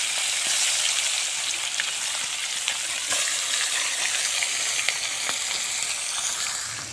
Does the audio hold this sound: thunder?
no